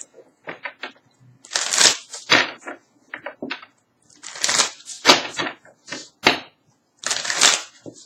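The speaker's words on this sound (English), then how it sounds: "Allow me to shuffle." Tarot cards are shuffled repeatedly in crisp, riffling bursts, with short pauses between rounds and small taps in between.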